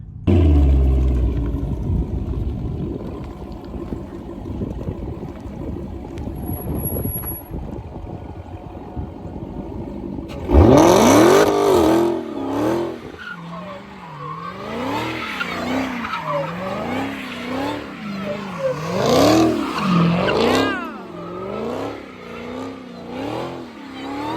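A Dodge Hellcat revs hard and spins its tires on snow, the engine note rising and falling in repeated bursts after a quieter rumbling stretch, close and loud with no talking.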